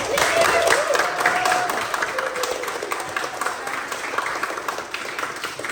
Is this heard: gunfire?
no